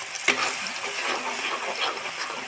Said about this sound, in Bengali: রসুনগুলো ভালো করে ভেজে নিতে হবে।